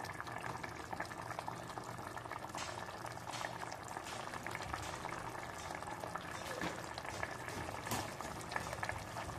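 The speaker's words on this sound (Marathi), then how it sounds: "आता गॅसची फ्लेम ही मोठीच ठेवायची आहे आणि मस्त अशी उकळी येऊ द्यायची" Vegetable curry boils hard over a high gas flame, a constant close bubbling churn that stays even throughout.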